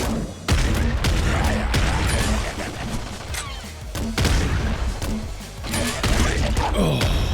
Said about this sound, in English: I'm gonna use the hell out of this grenade launcher for a moment.